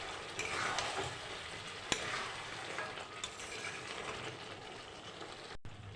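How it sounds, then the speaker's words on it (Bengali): Chicken sautéing in a pan, a steady low sizzle with occasional spoon scrapes and knocks as it is stirred, fairly faint and close. "একটু নাড়াচাড়া দিয়ে আবার একটু ঢেকে দেবো। আর কিছুক্ষণ আমি কষিয়ে নেব।"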